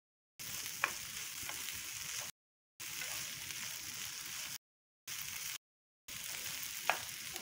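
Okra (lady finger) with peanuts frying in a pan gives a steady, bright sizzle, broken by several abrupt silent gaps, with a couple of faint clinks of stirring and no voices.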